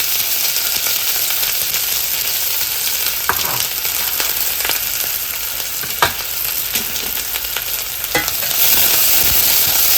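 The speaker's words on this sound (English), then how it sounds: "Stir it all up well and let the onions saute till they become soft and pink." Onions sautéing in a pan with fenugreek and cumin seeds, a continuous loud sizzle punctuated by several sharp spoon scrapes and taps as the mix is stirred, with no voices.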